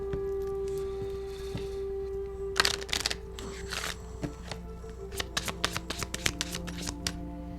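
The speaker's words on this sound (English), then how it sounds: "That was a poor shuffle." Playing cards are riffle-shuffled close by, a quick burst of fluttering snaps followed by a series of crisp taps and clicks.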